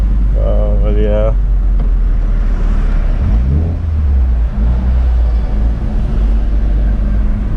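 A Toyota Corolla AE111 on the road gives a deep, loud induction rumble from inside the car, rising in pitch as it accelerates, with a short spoken phrase near the start.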